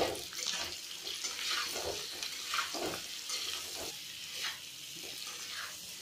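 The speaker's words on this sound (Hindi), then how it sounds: "अब इसे हमें हल्का लाल होने तक भूनना है।" Potatoes with salt and dry mango powder frying and being stirred in a pan: a steady close sizzle with soft, repeated scraping strokes and no talk.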